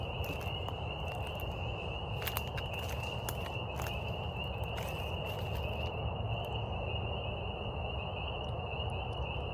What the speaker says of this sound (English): A bunch of horny frogs.